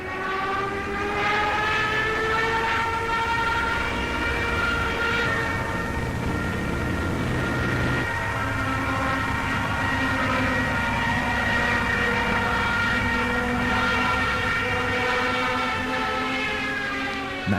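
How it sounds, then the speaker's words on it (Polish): Junkers Ju-87 Stuka dive bombers over Westerplatte in 1939 sound their sirens: a loud, continuous wailing tone with strong harmonics holds for many seconds and shifts pitch partway through, with no voices. "nad Westerplatte nadlatują bombowce nurkujące Junkers Ju-87 Sztukas z wyjącymi syrenami"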